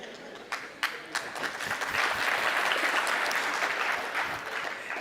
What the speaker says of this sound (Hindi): इसमें ताली बजाने के लिए भी बहुत हिम्मत चाहिए।